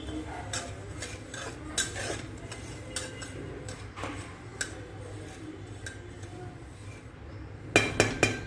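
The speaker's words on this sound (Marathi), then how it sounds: "रवा मंद आचेवर भाजून घ्यायचा" Semolina (rava) dry-roasting over low heat in a kadhai, with a spoon tapping and scraping the metal in irregular clinks and a faint dry rustle, ending in a quick run of sharper knocks.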